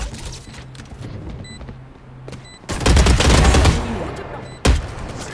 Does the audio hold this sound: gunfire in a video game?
yes